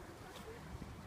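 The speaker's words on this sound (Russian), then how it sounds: "Ветер." Cold wind blows outdoors on a one-degree October day, a short burst of rushing, buffeting noise against the microphone.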